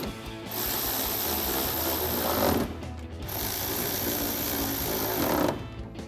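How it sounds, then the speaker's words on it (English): An 8mm socket on a power driver tightens headlight bolts on a 2019-2023 RAM 1500 with OE Night Edition black-housing headlights. Two sustained whirring, buzzing runs of about two seconds each are separated by a brief pause. "Next, we can grab our 8mm socket to tighten these all down."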